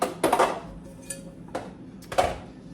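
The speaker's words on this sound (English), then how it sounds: "let's start with getting my pan ready" A cooking pan is handled on a stovetop, giving a few separate metallic clanks and knocks spaced about a second apart, fairly close and moderately loud, with quiet pauses between.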